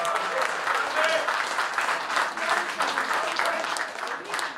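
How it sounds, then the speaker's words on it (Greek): A concert audience applauds a guitarist at a 2018 metal show, a dense, continuous clapping wash with cheering voices mixed in throughout. "Δώστε το πιο δυνατό σας χειροκρότημα!"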